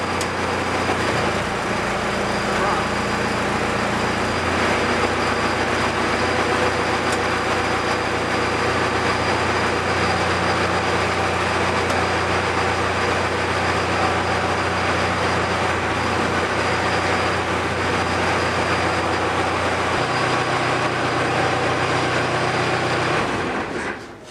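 A Cummins diesel in a 1968 Ford Bronco runs continuously while its C6 transmission is tried in reverse and neutral, a loud, close, droning idle with a faint shift in tone partway through and no talking.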